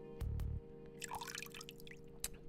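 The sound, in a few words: running bathroom faucet in video game NIKKE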